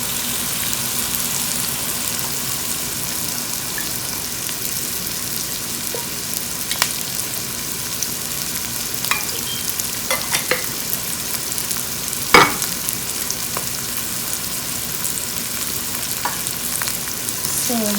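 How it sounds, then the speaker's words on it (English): Walnuts, cashews, almonds and raisins frying in a pan, a close and constant sizzle with occasional sharp clinks of a spoon stirring, no speech. "we can fry our dry nuts, which is 2 tablespoons of each, walnut, cashews, almond, and also raisins"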